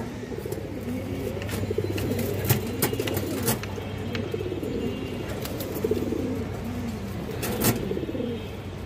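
A female pigeon coos in soft repeated rolling phrases, close and steady, with occasional sharp clicks or taps of other birds around.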